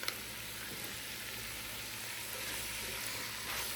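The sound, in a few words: beef chili sizzling in a pot on the stove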